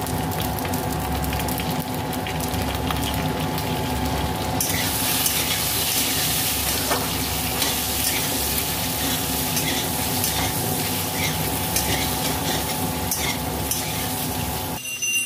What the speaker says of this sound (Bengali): কচু কেটে ধুয়ে পরিষ্কার করে নিয়েছি, আমি ভেজে নেব।